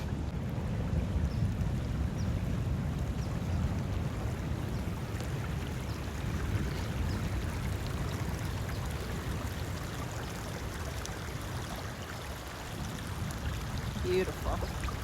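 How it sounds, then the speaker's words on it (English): A creek flowing into the ocean at Point Reyes National Seashore gives a constant broad wash of running water and surf, with gusts of wind buffeting the microphone throughout the stretch. "You can see this creek here. Hits the ocean here."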